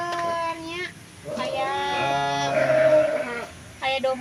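Sheep on a smallholder farm in Garut, Indonesia, give loud, close bleats, several long wavering calls in a row with a brief pause, and a person speaks around them.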